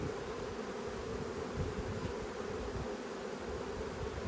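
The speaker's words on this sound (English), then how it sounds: "there are a couple of other yellow bees" Honey bees around a nucleus hive make a steady, dense buzzing drone that holds at an even level, fairly close, with no voices.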